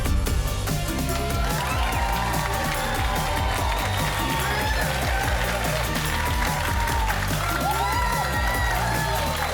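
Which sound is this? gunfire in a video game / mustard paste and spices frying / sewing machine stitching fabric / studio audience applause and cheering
studio audience applause and cheering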